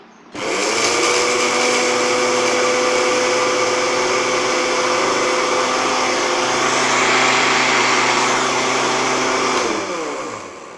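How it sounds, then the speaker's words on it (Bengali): An electric grinder pulverises garam masala spices in one steady, loud whirring run of about ten seconds, with no one speaking, then winds down at the end. "আমরা সুন্দর করে গুঁড়ো করে নিচ্ছি"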